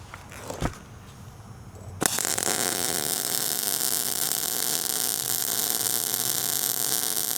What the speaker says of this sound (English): Throw down some weld with it, and we'll see how it looks.